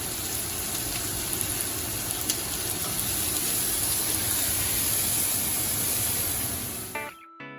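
Onions cooking in olive oil in a stock pot sizzle with a constant dense hiss for several seconds before the sound drops away abruptly at the end, with no voices.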